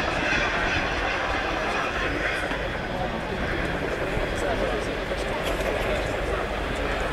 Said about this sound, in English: starts to slow, running landing onto crowd centre, and they'll continue to keep the nose of the aircraft up